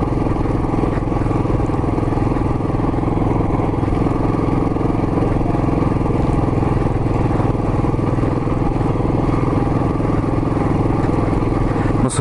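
A Royal Enfield Classic 500 motorcycle thumps steadily up a narrow, washboard-rough mountain road near Mireuksan, its continuous engine drone and clatter close and unbroken throughout.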